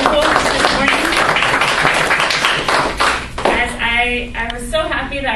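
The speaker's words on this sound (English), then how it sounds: "can I just have a round of applause for all of you for showing up and being so wonderful this morning?" An audience claps together at a morning career talk, a dense, steady patter of many hands that thins toward the end as a voice begins speaking over it.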